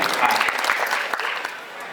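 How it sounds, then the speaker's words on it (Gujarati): An audience at a Shastra Pujan ceremony claps for the organizers: a quick burst of dense, close applause, with brief talk mixed in. "એમના માટે સૌથી પહેલા જોરદાર તાળીઓથી વધારી લઈશું એમને"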